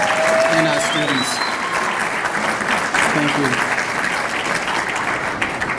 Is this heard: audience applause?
yes